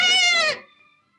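A young goat lets out one loud, wavering bleat up close; the bleat fades quickly into silence, with no voices.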